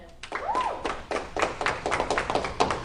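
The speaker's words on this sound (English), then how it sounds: "Clap for them." Audience clapping at a talk about money and wealth: a burst of scattered hand claps runs steadily for a couple of seconds, fairly close, with a brief voice at the start.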